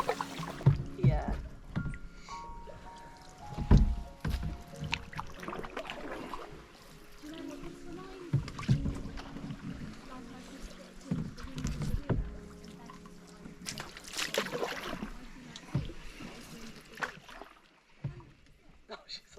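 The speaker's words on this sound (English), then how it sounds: "as we paddle underneath humongous trees" A canoe is paddled along a river on the Norfolk Broads, with quiet splashes and water trickling around the hull under intermittent nearby conversation.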